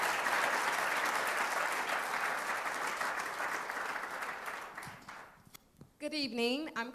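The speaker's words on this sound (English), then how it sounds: "Give them a round of applause." At a mayor's 2017 accountability report event, an audience gives sustained applause. Dense, steady clapping fills the room for about five seconds, then thins and stops, and a speaker begins talking right after.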